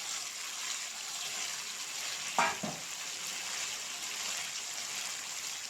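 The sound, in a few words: taro stolons and jackfruit seeds frying and stirred in spice paste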